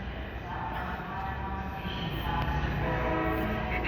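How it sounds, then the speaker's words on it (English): A Tri-Rail or Metrorail train at the MIA station rumbles steadily with a low, continuous rail roar and faint higher tonal squeal, moderately close, while people talk faintly in the background. "Either the Tri-Rail arrives or the Metrorail departs."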